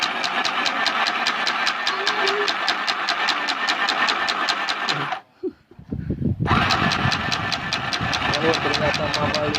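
A small mini sewing machine runs with a loud, fast, steady mechanical chatter, stops briefly near the middle, then starts again and keeps going at the same even rhythm.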